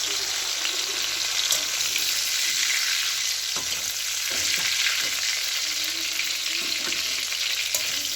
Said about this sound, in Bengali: আর অল্প আছে, এগুলো ভেজে নেব